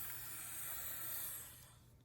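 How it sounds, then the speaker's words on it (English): A 120 volt handheld steamer hisses steadily at close range as it melts ice off a plastic ice box in a Samsung refrigerator's ice maker, a soft continuous spray that fades slightly toward the end. "use this 120 volt handheld steamer to simply melt off that ice"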